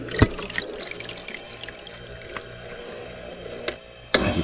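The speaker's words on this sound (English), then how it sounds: "the water that's not frozen drains out, and then the ice cubes fall" Unfrozen water trickles and splashes as it drains inside an Insignia portable ice maker, with intermittent clicks and a couple of louder clunks toward the end.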